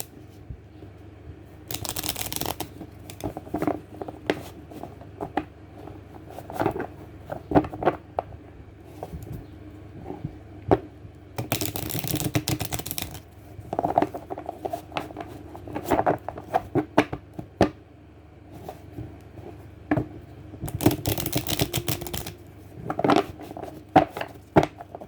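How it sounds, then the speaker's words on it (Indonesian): Tarot cards are shuffled by hand in repeated bursts of riffling and flapping, with crisp taps and slides between them, close and clear with no talk over it. "Oke, saya kocok kartunya dulu."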